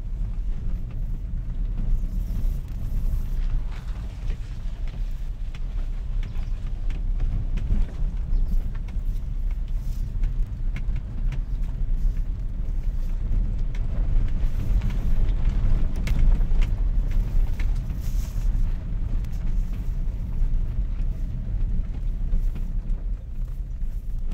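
A car driving along a hill road toward Dharampur near Kasauli, steady low engine and road rumble with wind noise throughout, close and continuous with no talking.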